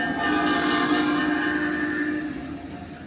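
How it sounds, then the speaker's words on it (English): A train rushes past close by with a loud, steady roar and a sustained horn tone that fades away near the end. "Oh, here it comes. That's a fast train."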